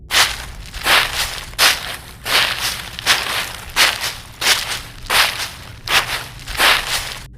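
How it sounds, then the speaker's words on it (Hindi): Heavy footsteps crunch through dry leaves in a jungle, about ten slow, evenly spaced steps that are loud and close, with a crackling rustle on each footfall and no voices. "वो सूखी पत्तियों पर चल रहा था, इसलिए उसकी आवाज़ मुझे सुनाई दे रही थी। बहुत भारी कदम लग रहे थे उसके।"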